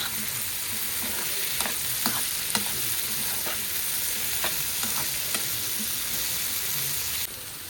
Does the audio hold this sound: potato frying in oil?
yes